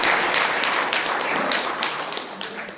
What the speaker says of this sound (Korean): 환영의 박수 좀 보내주시겠습니다.